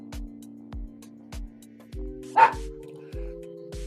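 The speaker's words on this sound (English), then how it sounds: "looking at the wall where there's nothing, just barking because I'm talking." A dog lying in its bed barks repeatedly indoors, a series of short, fairly close barks at a steady rhythm with one louder yelp, over a low constant hum.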